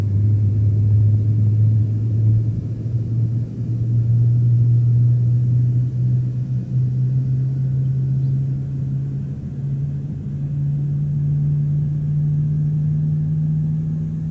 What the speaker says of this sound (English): Alrighty, giving fuel to engine 2.